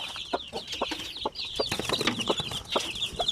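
Several month-old Basilan chicks and chickens clucking together in a steady scatter of short calls, with a bright chirping layer on top and no one speaking.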